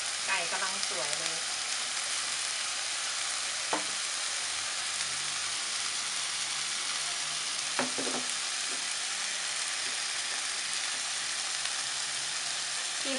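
Chicken breast steak, marinated in fresh milk and black pepper, frying in a pan with a little oil: a steady, close broadband sizzle throughout, with a few brief clinks and scrapes of a utensil stirring or turning the meat.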